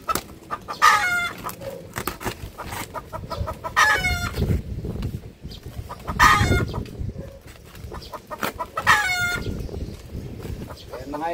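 Labuyo wild junglefowl cluck and crow nearby, three loud crowing calls spaced through the stretch over a murmur of rustling and background chatter.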